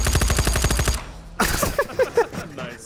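A drum-magazine gun in Ghosts of Tabor dumps a fast, loud burst of about a dozen shots, then stops. Scattered clatter and softer impacts follow.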